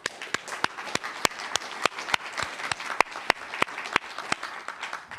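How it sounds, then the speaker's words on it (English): Applause from a summit audience, steady crowd clapping with several sharp, loud individual claps standing out close by in a rough rhythm across the whole stretch. "a round of applause."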